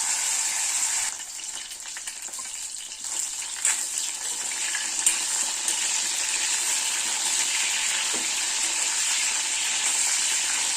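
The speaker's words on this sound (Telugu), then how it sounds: "వంకాయ మొత్తం ఈవెన్గా లోపల ఎక్కడ పచ్చిగా లేకోకుండా ఫ్రై అయిపోతుంది" Stuffed brinjals for a gutti vankaya curry fry in a pan with a steady, hissing sizzle that holds an even level throughout, broken only by a few faint pops and clicks, with no one talking.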